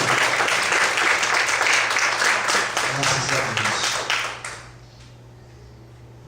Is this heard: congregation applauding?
yes